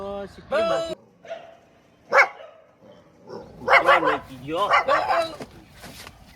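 A small dog barks several times in short yapping bursts, with a voice talking in between and a whimpering yip.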